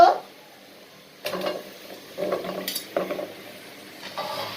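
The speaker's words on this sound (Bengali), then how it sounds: "মশলার ভিতরে কচুরমুখীটা ভালো করে কষাচ্ছে" Taro (kochur mukhi) stirred in spice masala in a pan for a hilsa curry, with four scraping spatula stirs at steady intervals over a soft, quiet sizzle and no talking.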